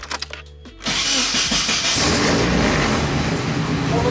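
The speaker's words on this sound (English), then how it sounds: "Now I'm gonna turn on the car, bleed it a couple times" A Nissan 240SX cranks briefly in a garage, then catches and settles into a loud, steady idle that runs on to the end.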